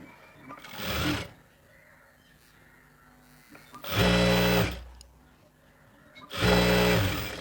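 A sewing machine stitches the hem of an XXL chudi pant in a tailoring shop, three loud motorized bursts of fast stitching, each a second or so long, separated by quiet pauses.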